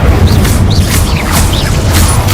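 A fire spell cast in the Hogwarts Legacy video game roars as a dense, continuous burst of flame with swirling whooshes and a low rumble underneath. It stays loud and close for its whole length, with no voices.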